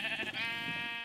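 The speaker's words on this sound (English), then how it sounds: "Why did I kill the sheep?" A single Minecraft sheep gives a short, nasal bleat, clear and close, with no talking over it.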